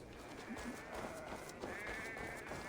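Sheep bleating on a farm in the Viking-era game Assassin's Creed Valhalla, a few soft, fairly distant calls rising over steady ambient background hiss and game atmosphere, with no talking.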